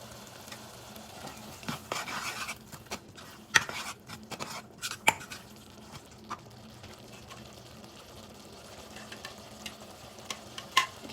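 Vegetables with cilantro and green onions sauté in a pan for Indo-Chinese vegetable Manchow soup, a soft steady sizzle broken by scraping stirs and occasional clinks, fairly quiet and close.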